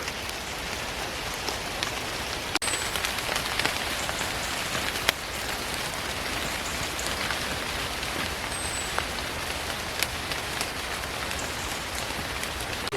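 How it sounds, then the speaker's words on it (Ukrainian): Steady rain falls through a misty forest in the Kyiv region, a dense, even patter of drops on leaves and ground that continues unbroken from start to finish, with no voices. "Я дуже люблю по дощу ходити в лісі."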